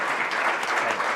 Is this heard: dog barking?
no